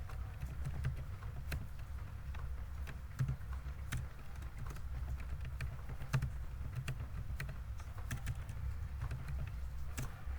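Someone types steadily on a computer keyboard while entering data in MS Excel, producing soft, quick key clicks with occasional louder taps over a constant low room hum.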